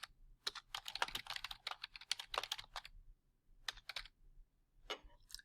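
Quick bursts of typing on a computer keyboard, close and crisp, with clustered key clicks broken by short pauses and no talking.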